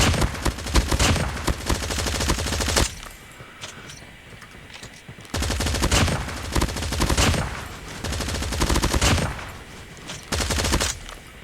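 AK117 assault rifle fire in COD Mobile comes in long loud automatic bursts, three sustained strings of rapid shots separated by brief pauses, close and dominant.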